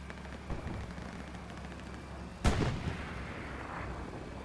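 Tanks firing in a video-game battle: a faint thump early on, then one sharp, loud cannon blast with a rumbling tail, over a steady low background hum.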